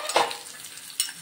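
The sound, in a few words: curry leaves sizzling in tempering oil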